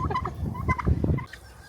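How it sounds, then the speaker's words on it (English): Turkeys gobble in a rapid, rattling burst at an animal attraction in Clermont, Florida, the calls close and loud, then cutting off abruptly into quieter background. "Look at these turkeys."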